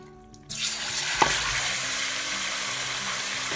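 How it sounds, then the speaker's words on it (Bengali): Chicken for korma hits hot oil in a pan with spices and cardamom, bursting into a sudden loud sizzle, then a clatter of stirring and a steady frying hiss that continues alone. "চিকেনগুলো ভালো করে নেড়ে 2 মিনিটের মতো ভেজে নেব"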